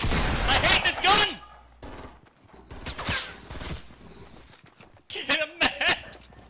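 Gunfire in the video game Fortnite, several sharp bursts of shots scattered through the stretch, with excited voices talking between and over them.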